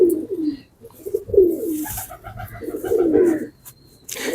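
Pigeons cooing in a loft, several close, repeated rolling coos rising and falling in soft waves, clear and fairly near with brief pauses between calls and no talking.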